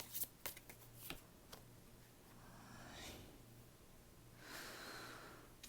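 A tarot card is drawn from the deck with a few soft, quick card flicks near the start, very faint and close, followed by light breathing.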